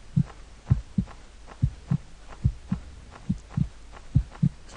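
Video game heartbeat, a steady low double-thump pulse repeating about twice per second, close and dry with a faint hum beneath and no voices.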